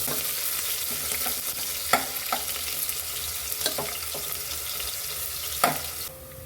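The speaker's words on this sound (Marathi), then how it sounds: "आता याच्यामध्ये मी कांदा घालून घेणार आहे।" Onion frying in a pan of hot oil with a cinnamon stick, cumin, bay leaf and green chillies, a steady close sizzle broken by several sharp scrapes and stirs of a spoon, with no voices.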